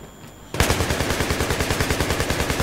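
Rapid automatic gunfire from an AKS-74 rifle in the video game Battlefield 3, a quiet lead-in then a loud, steady burst of evenly spaced shots running to the end.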